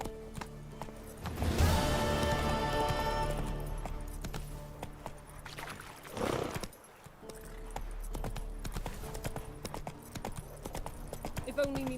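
Roach, the horse in The Witcher 3, gallops in quick, rhythmic hoofbeats over ambient game sound, with a sharp burst of noise early on and voices speaking around it.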